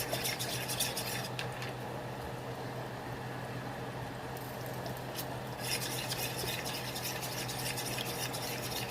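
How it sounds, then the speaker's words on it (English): Egg whites being stirred and whipped in a bowl in a home kitchen, a steady brisk scraping and clicking that runs continuously at close range over a faint background hum. "These are eggs, but they're only the whites. And I'm stirring them, whipping them."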